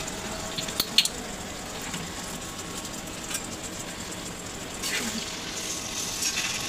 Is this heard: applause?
no